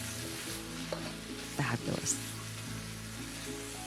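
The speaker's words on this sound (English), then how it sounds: "Heat is the sizzle, the crackling, bubbling" Cooked green cabbage slaw with red radish and spring onion warms in a pan, a soft steady sizzle with a few stirring scrapes in the middle and one brief spoken word.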